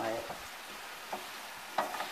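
Ingredients for a walnut apple cake browning in a pan, a faint soft sizzle with light scraping and stirring clicks, close and quiet without talk.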